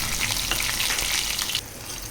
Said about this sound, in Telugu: ఇలా ఆయిల్ వేడెక్కాక ముందుగా జీలకర్ర, తర్వాత ఆవాలు,